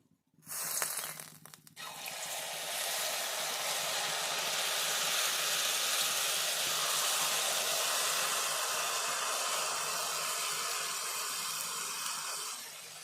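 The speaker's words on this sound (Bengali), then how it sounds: "আবারও আমি ভেজে নেব" Jalebi batter of ground black gram dal fries in hot oil, giving a steady, even sizzle that holds for most of the stretch after a brief quiet start.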